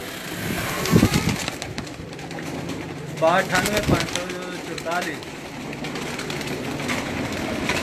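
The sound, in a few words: pigeons cooing in coops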